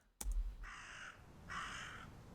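A penguin call in the video game Detective Penguin comes as two harsh, crow-like caws about a second apart, quiet and thin after a sharp click, alone with no voices.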